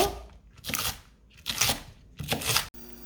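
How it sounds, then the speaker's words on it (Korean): A knife chops through green onions on a cutting board in three or four separated bursts of crunchy cuts. "파도 굵직굵직하게 썰어주세요."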